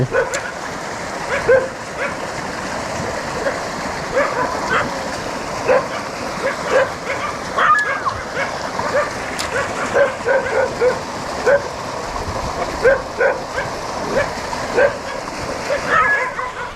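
A dog barks in short repeated yips and woofs, fairly close, over a steady background of rushing stream water and faint talk during a fishing outing.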